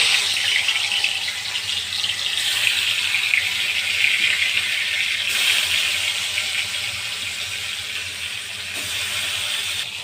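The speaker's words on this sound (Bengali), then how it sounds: "তেলের মধ্যে মাছ ছাড়ছি" Fish frying in hot oil gives a steady, loud sizzling hiss that holds evenly throughout, with a brief surge partway through.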